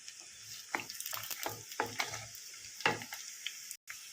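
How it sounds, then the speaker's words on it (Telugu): Mustard seeds and dry red chillies crackle and sizzle in hot oil for a pickle tempering, with irregular sharp pops and spoon stirring, up close and alone. "ఆయిల్ హీట్ ఎక్కింది. ఎండుమిర్చి తాలింపు వేద్దాము."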